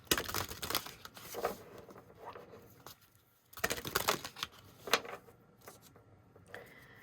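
Tarot cards are shuffled and riffled in several rustling bursts separated by short pauses, close and fairly quiet, with no voices.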